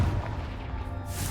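A Confringo fire spell blast in the Hogwarts Legacy video game booms low and heavy, rumbling through the whole moment with a short whooshing burst near the end.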